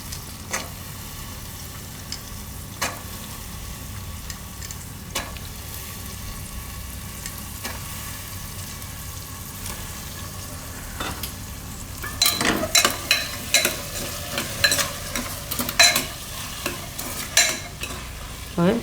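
Green val beans fried with spices in a pan for a Gujarati val-potato dish: a soft steady sizzle holds for a while, then close, irregular scraping stirring strokes and clicks grow louder over the continuing fry, with no voices.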